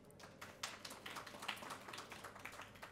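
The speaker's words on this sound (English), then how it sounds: "A round of applause for them, please." Soft applause from a conference audience for an event sponsor, with distant scattered hand claps that swell slightly midway and keep a faint, even patter throughout.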